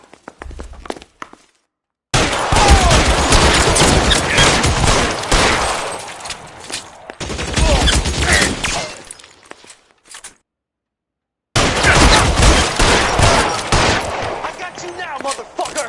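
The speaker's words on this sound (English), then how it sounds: "Try shooting someone with a gun of his own." Gunfire rings out in the LA Noire video game shootout, with bursts of loud shots and impacts in sustained volleys separated by brief silent gaps.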